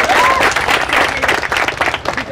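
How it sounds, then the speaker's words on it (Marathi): An outdoor crowd at the prize distribution ceremony of the Lions Open cricket tournament applauds a sponsor, close and loud clapping that pulses unevenly for a couple of seconds, with a few voices mixed in. "त्यासाठी एका जोरदार टाळ्या"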